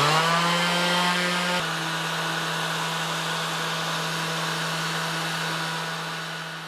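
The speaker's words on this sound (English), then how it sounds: "just think about how nice that's going to be to have a cordless sander" A Milwaukee M18 cordless sander runs at a steady high-pitched whine, close and loud, with a slight pitch shift early on before holding constant and tapering off near the end.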